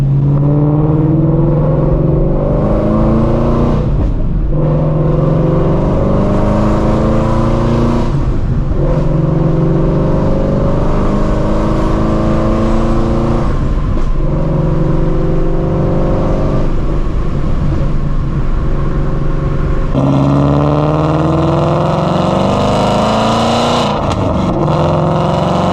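A supercharged Shelby GT350 revs hard, heard loud and close at the exhaust, rising through several long pulls. Each pull winds up with supercharger whine, then breaks into crackles and pops as it falls off.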